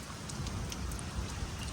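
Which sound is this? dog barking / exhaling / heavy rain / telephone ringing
heavy rain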